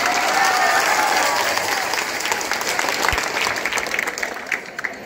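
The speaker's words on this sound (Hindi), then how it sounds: "एक बार जोरदार ताली हो जाए।" Loud, dense applause from a crowd at a tribal day school event, sustained and close, slowly tapering toward the end.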